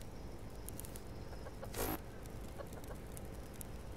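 Chickens cluck softly in the Subsistence survival game, with scattered quiet clucks and pecking sounds and one brief louder flutter or squawk partway through, all over a low ambient background.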